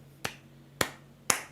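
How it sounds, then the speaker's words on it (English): Three slow, isolated claps spaced about half a second apart, sharp and close, over a faint steady hum. "Slow clap."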